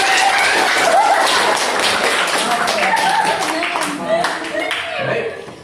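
Students in a classroom clap their hands together, a burst of brisk, overlapping claps at close range that tapers off over a few seconds, with voices mixed in.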